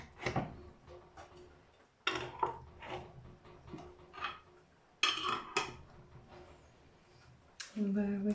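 Glass canning jars and metal lids clinking and clattering on a kitchen draining board while sausage casserole jars are readied for the canner, a few sharp knocks spaced across the stretch with someone speaking between them.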